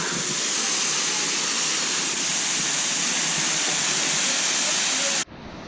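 Constant rushing roar of a small waterfall heard up close, a dense unbroken wash of water that cuts off abruptly near the end.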